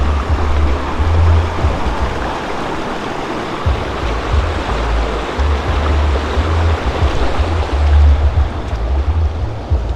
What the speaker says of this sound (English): Look at this stream. Absolutely stunning crystal clear water as always.